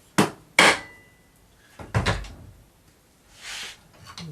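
A sharp chisel cuts into the wood of a guitar headstock, giving a few distinct close knocks and scrapes separated by quiet pauses, then a softer brushing sweep at the end.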